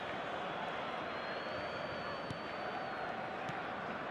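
Steady roar of a stadium crowd in the eFootball game during a Manchester City versus Manchester United derby, a constant dense wash of noise with a few faint claps, under a commentator's voice.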